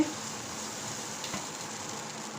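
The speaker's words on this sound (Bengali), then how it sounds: "আমি এখন ফ্রাই প্যানে ব্যাটারটা দিয়ে দিচ্ছি।" Batter sizzles in a frying pan for a paratha sandwich snack, a soft steady hiss that is faint and close, without talk.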